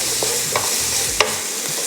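Chopped onions and yellow bell peppers sweating in a pan, with a steady close sizzle broken by a few soft scraping stirs and one sharp clack of a utensil.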